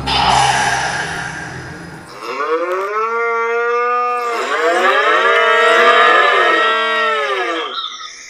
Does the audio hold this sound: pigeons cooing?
no